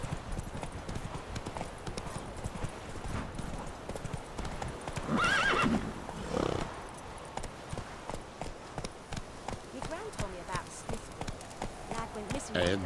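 Horse galloping with rapid clip-clop hoofbeats and a neigh midway in The Witcher 3 video game, the hooves steady and close throughout while someone talks over them.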